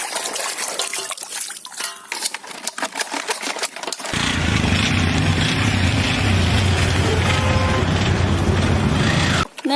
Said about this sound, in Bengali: নেক্সট নিয়ে নিলাম সিএনজি অটো রিক্সা